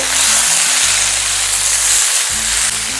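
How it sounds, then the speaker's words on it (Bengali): Vegetables for an old-style Bengali vegetarian mixed-vegetable dish, already partly steamed under a lid, are stirred in a pan. A steady close sizzle runs throughout over a low droning hum, with no voices. "আবার একটু নাড়াচাড়া করে নিচ্ছি।"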